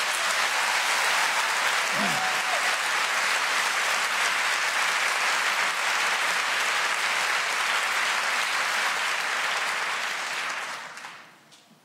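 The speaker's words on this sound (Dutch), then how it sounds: "Applaus voor iedereen die hier vanavond opgedreven heeft." Sustained audience applause fills a hall at an amateur musical theatre awards show, steady and loud for about ten seconds before tapering off at the end, with no talking over it.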